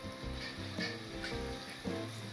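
Sesame balls (jin deui) deep-frying a few at a time in a pot of hot oil, a steady bubbling sizzle with faint stirring clinks, close and continuous with no talk.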